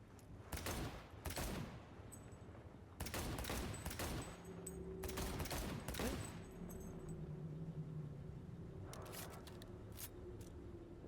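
Rapid bursts of video game weapon fire on a Nintendo Switch, several clustered volleys of sharp shots with gaps between, followed by a steady electronic tone and a fainter burst near the end.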